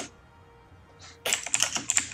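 Computer keyboard typing during online gaming: a short, dense burst of sharp, close keystrokes that begins abruptly after a near-silent pause and continues to the end, with no speech.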